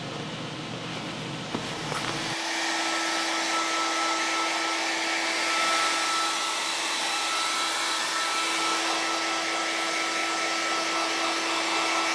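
A hair dryer blows steadily on freshly washed platinum palladium prints, starting abruptly after a short quiet lead-in and then running as a loud, continuous whoosh with a steady hum for the rest of the clip.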